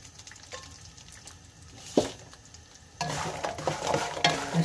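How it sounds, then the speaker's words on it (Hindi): Gond (edible gum) frying in a pan while being stirred, with a soft sizzle and occasional scraping that grows louder and busier partway through, close up and with no talking. "गूंद सारी देख लें फ्राई हो गई है तकरीबन।"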